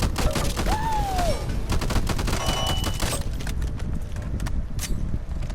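Rapid automatic gunfire rattles in dense bursts during play of the zombie shooter Back 4 Blood, loud and close, with sharp layered shots that thin out toward the end.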